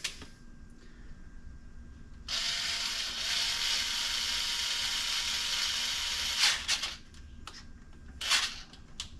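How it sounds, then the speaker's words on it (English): A torque wrench set to 30 pounds ratchets while tightening rifle scope mount screws: a quiet, sustained whirring ratchet run for several seconds, followed by a few short, sharp clicks near the end. "flip that back over to my torque wrench. I'm still set at 30 pounds."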